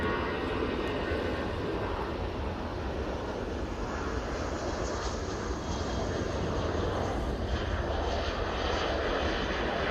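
An airliner leaving Manchester Airport for London gives a loud, steady jet-engine roar that swells slightly partway through and fills the whole stretch, with no talking.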